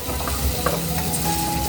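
Flour being stirred into melted butter in a pan gives a steady, continuous scraping and soft sizzle that stays close and even throughout, with no voices present.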